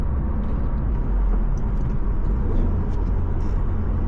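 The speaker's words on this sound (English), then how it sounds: "let's try the rev match again." Manual-transmission car with a downpipe, heard from inside during a rev-match downshift, a loud low engine drone and road rumble that swells slightly partway through, no talking.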